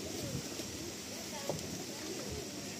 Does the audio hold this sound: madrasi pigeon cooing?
yes